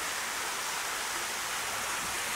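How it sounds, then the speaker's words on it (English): A waterfall at a hotel pool in Pigeon Forge, Tennessee, gives a steady, even rush of falling water with no breaks and no voices. "check out this beautiful waterfall"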